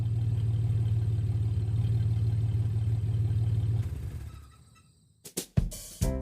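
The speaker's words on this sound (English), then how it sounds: "truck drove into the driveway" Truck engine idling with a low steady rumble close by for several seconds, then cutting off, followed by a few sharp clunks like a door.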